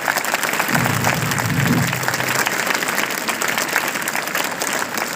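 Sustained loud applause from a school audience honoring a former student, Vinay Vats, at a ceremony at RK International School in Narela, Safiabad; steady dense clapping throughout.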